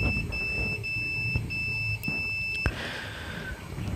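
A phone's speaker buzzer beeps during a test with steady high electronic tones in short broken pulses, followed by a fainter falling tone, heard close over a low background hum, with no speech.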